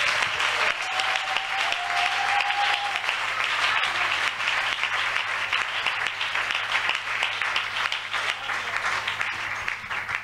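A church congregation applauds loudly to acclaim the Lord Jesus Christ during an evening worship service: dense, sustained clapping from a crowd that fills the room and runs steadily throughout, with no voice over it.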